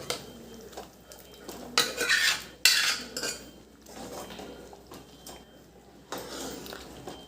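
A spoon clatters and scrapes inside a metal pot while cooked dal is mixed into palak spinach, giving several bursts of clinking and stirring with quieter pauses between them.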